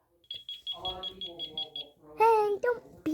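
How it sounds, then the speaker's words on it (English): A video game sounds a rapid run of about ten short, even electronic beeps, then a child-like voice talks over it. "Hey, don't beep at me."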